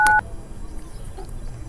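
A single short touch-tone beep from a phone number being dialed sounds at the start, followed by quiet background hiss.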